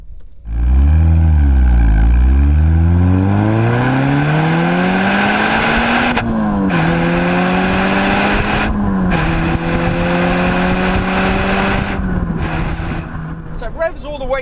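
A Peugeot 306 GTi 6 engine revs hard under acceleration, pitch climbing steadily through each gear with brief drops at the shifts, loud and close from inside the car, with the driver talking over it at times.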